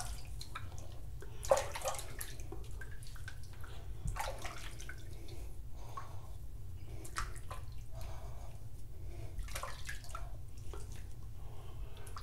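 Running water splashes and drips nearby as a face is rinsed after a wet shave, a steady trickle with scattered patters and soft hand splashes, fairly quiet and without speech.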